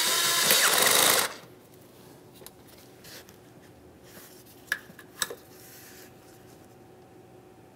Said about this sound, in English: Tighten your 8mm headed clamp.